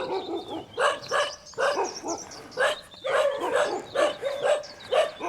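A dog barks repeatedly in an outdoor street setting, a rapid series of loud, close barks in short bursts with brief gaps between them.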